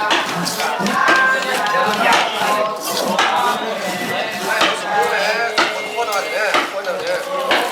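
Rapid, irregular metallic hammering and clanking close by, from bamboo rocket-making at night in Kengtung, Shan State, Myanmar, with people talking over the busy tapping throughout.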